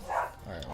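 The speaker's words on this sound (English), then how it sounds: "Apologies for the dog barking outside my window." A dog barking outside a window, one brief muffled bark blending with someone saying a single word.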